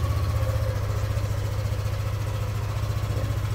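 A small engine idles steadily after a repair involving the carburetor. The low, even throbbing pulse is close and continuous, with no revving.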